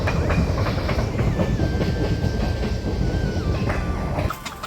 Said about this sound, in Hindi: और ये आ रही है ट्रेन।